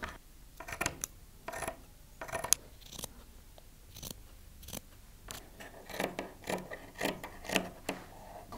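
Scissors snip through an old cotton t-shirt, a series of close, crisp cuts at an irregular pace, some single and some in quick clusters, quiet and without speech.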